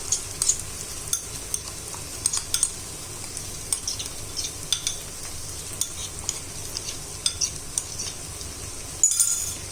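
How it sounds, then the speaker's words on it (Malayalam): Soaked masala and softened sautéed onions get stirred together in a pan for Kerala-style karimeen pollichathu. A gentle sizzle runs under repeated spoon scrapes and light clinks against the pan, close by and without speech. "നന്നായി ഇളക്കി മിക്സ് ചെയ്യുക"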